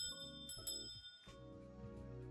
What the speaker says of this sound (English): the bell at the entrance rang